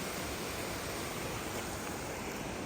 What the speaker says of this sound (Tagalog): Ah, oh, may falls din oh.